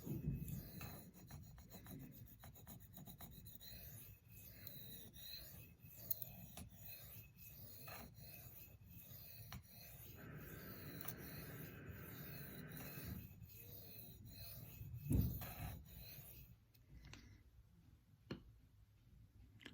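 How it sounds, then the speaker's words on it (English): A Spyderco Sage 5 Lightweight knife blade being sharpened, with quiet, repeated raspy scraping strokes at an even rhythm and a brief louder knock partway through, close and fairly faint. "I'm gonna just sharpen a little bit more on this side."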